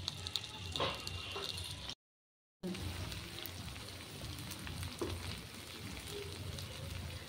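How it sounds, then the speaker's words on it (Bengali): Silver carp paturi, fish wrapped for frying, cooks in a pan with a steady soft sizzle of frying, fairly quiet, broken by a brief silent gap near the start. "মাছের ওই পিঠটা তো ভাজা হয়ে গেছে, এবার এই পিঠটা একটু ভাজা হোক"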